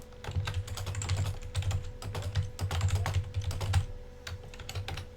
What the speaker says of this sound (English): I'm going to just type in the chat because I don't know.